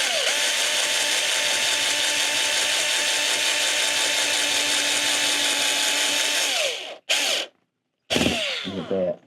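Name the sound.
power drill driving screws into fiberglass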